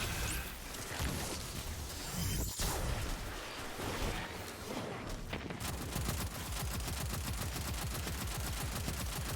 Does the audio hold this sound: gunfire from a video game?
yes